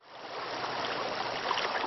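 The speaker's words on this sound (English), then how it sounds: "the rain-swollen Little Neshannock Creek spilling its banks this morning" The rain-swollen Little Neshannock Creek in Lawrence County spilling its banks during a flood, a continuous rushing wash of water that swells in at the start and then holds steady and fairly loud, with no voices.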